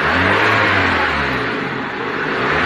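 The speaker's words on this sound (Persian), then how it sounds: "گاز بده ببینم" A sports car engine revs hard and holds a loud, steady roar with a whirring tone throughout, close by and with no talking.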